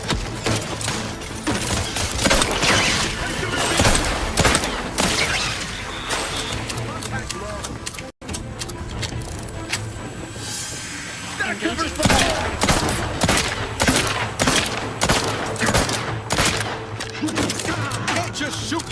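Rapid gunfire in the sci-fi video game The Outer Worlds 2, with dense bursts of automatic shots and repeated bangs running almost continuously, loud and close, alongside game sound effects.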